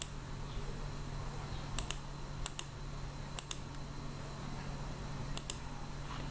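Computer mouse clicks while someone works in SketchUp: sparse, faint, sharp clicks that come in quick pairs a few times over a quiet, humming background.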